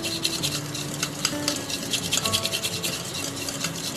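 Powdered sugar is stirred into ghee and oil in a bowl, a close, steady scraping and rubbing with quick repeated strokes and light clinks.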